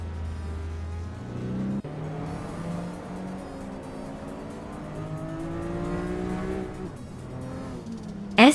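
A 1993 BMW M3 E36 race car in a racing game, its engine revving up through gears with rising, falling pitch sweeps, a brief gear-change dip, then a sharp squeal or impact at the end.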